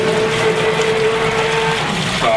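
A Liberty Pump Omnivore grinder pump grinds through a mop, churning with a steady mechanical whine and watery sloshing, loud and close, ending with a shift in pitch as the motor changes.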